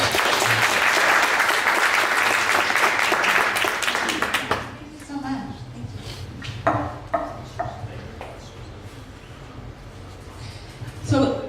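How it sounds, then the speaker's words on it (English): Audience applause at a 1 Million Cups Dallas presentation: loud, dense clapping for the first four seconds fades out, followed by a few scattered claps, knocks and voices in the room. "Let's give her another round of applause."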